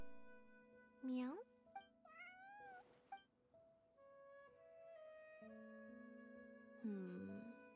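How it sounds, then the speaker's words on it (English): A cat meows several times in a gacha video game, with short rising and falling calls between stretches of steady tonal game music and a brief burst of cries near the end. "Let's let Lynette give it a try. Meow meow"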